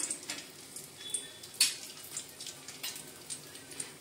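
Curry leaves frying in hot oil in a pan while cooking traditional Maharashtrian vangyache bharit, a soft, steady crackling sizzle with scattered sharp pops and spits, close by and fairly quiet, with no talking.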